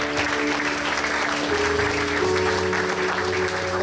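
A congregation claps steadily in church at a youth ministry congress: a dense, even wash of applause with sustained musical tones underneath, continuing for the whole stretch.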